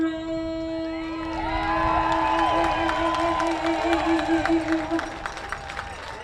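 A baseball crowd at Arcata Ballpark cheers and whoops after the national anthem. Loud, swelling applause and shouts rise over a fading held tone and continue in lively bursts.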